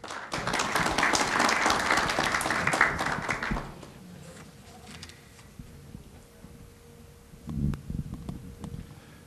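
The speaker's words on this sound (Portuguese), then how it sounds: "vamos recebê-lo com uma salva de palmas" An audience claps in welcome for a speaker at a health-financing conference, dense applause for about four seconds that then fades to scattered claps and room noise, with a brief thump and shuffling near the end.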